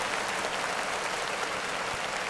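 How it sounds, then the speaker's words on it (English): Audience applause on a podcast set, a dense steady wash of clapping that fills the whole moment at an even level, with no voices over it. "But clap it up for that."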